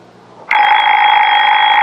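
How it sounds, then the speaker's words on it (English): A Baby Ben wind-up alarm clock bursts into a loud, continuous metallic ring after a brief quiet moment, ringing on without a break. "Baby Ben's our alarm clock, honey. It never forgets to get us up."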